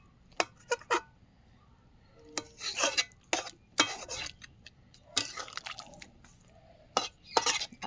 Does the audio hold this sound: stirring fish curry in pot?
yes